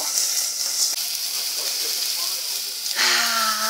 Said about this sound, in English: I have my garlic and my onion in the pan, and I'm going to saute it